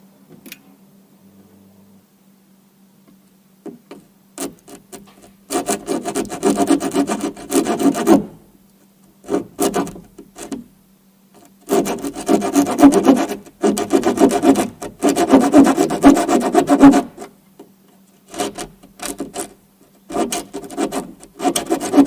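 Bursts of rasping back-and-forth strokes of a handsaw cutting a wooden batten, separated by quiet pauses, with a faint hum underneath.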